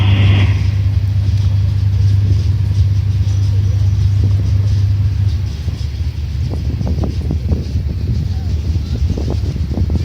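A Titan armoured bridge-laying vehicle's engine gives a loud, steady low rumble at an army display, easing slightly partway through, with faint wind and scattered knocks over the drone.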